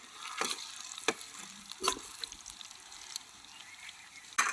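Chopped onion, green chilies, crushed garlic and cumin sizzle and crackle in hot oil, with a few stirring clatters; steady, soft and close, with no talking.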